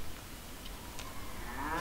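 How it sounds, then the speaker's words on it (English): A cow lows once in the Fallout 3 game world, a low faint moo rising late and held against a quiet background hiss. "And I found me a cow."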